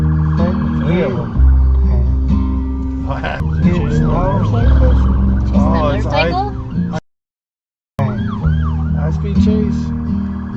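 Several police car sirens wail and yelp loudly during a high-speed chase on a city street, rising and falling sweeps with traffic rumble underneath, briefly cutting out before resuming.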